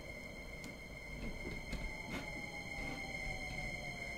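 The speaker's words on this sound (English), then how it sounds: "There's another train." A Minecraft Transit Railway light rapid transit train passes in the video game, a faint steady rolling rumble with a sustained high whine and a few soft clicks.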